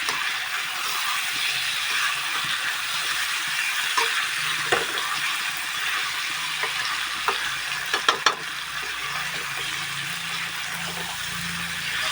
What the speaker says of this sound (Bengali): এবার আমি আরও দুই মিনিটের মতো ভালো করে কষিয়ে নেব